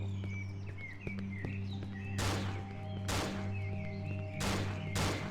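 Gunshots ring out in the horror game Cry of Fear: four sharp, loud blasts spaced about a second apart, each with a short ringing tail over a low droning background.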